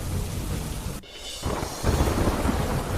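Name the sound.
thunderstorm with heavy rain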